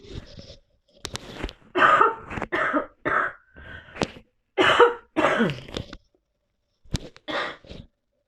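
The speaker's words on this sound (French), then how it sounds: "Excusez-moi, je vais tousser." A woman coughs repeatedly in short bursts, some harsh and throaty, with brief pauses between them, close and fairly loud.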